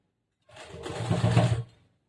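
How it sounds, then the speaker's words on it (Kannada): A sewing machine slowly stitching piping onto a princess-cut blouse, a single steady whirring run of about a second that swells and then stops, heard alone. "ಸ್ಲೋಲಿ ಸ್ಟಿಚ್ ಹಾಕ್ಬೇಕು ಇದಕ್ಕೆ ಪೈಪಿಂಗ್ ಮಾಡೋ ಟೈಮ್ನಲ್ಲಿ"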